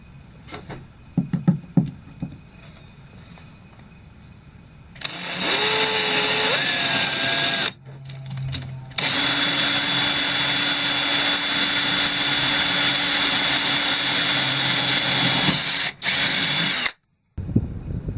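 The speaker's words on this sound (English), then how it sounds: "So we're going to drill the hole." A power drill bores a through-hull hole in a boat, loud and close, running in long sustained whines with brief pauses. Faint handling knocks come before it starts.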